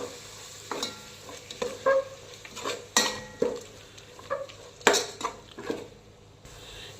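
Masala spice paste frying in ghee and oil in a pan, sizzling under repeated stirring and sharp spatula scrapes and clinks against the metal, close and fairly loud.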